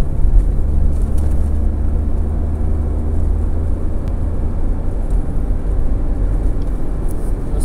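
A car with a turbocharged engine, being tuned for boost and black smoke, pulls hard in third gear at full throttle, a steady loud low engine drone with road noise throughout and no clear rise in pitch.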